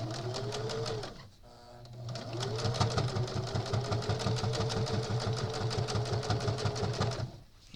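A sewing machine runs a straight stitch joining crazy quilt blocks, a steady rapid mechanical chatter close by that stops briefly after the first second, then resumes and runs evenly until just before the end.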